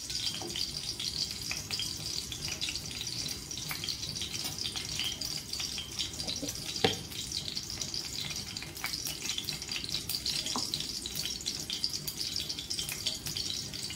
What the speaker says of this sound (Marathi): हे तूप चांगलं आपण कढईत वितळून घेऊयात आधी।